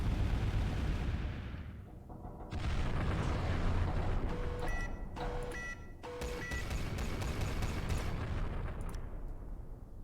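Thermal and EMP barrage artillery fire in the game Final Theory rumbles in a dense, sustained roar of distant blasts, broken by a few sharp bright bursts in the middle, with no talk.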